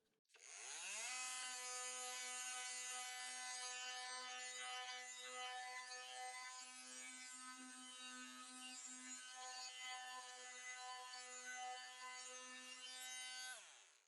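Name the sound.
sanding wood with a brushless oscillating tool, 120 grit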